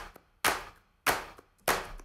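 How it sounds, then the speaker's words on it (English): Layered clap track from a song production mix: three crisp, loud clap hits spaced evenly about six-tenths of a second apart, each with a short tail and faint softer ticks between, no voices. "Sometimes it's as simple as creating 8 or 10 different claps and then mixing them together."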